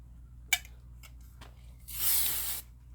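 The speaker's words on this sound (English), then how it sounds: "Spray." A few faint clicks and taps, then one loud hiss of a spray lasting under a second in a quiet room.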